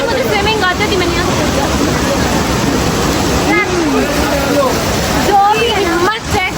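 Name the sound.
waterfall at a hiking spot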